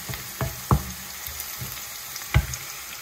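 Garlic and onion frying in a pan until browned, with a soft sizzle and a few louder stirring knocks spaced irregularly, close and without talk.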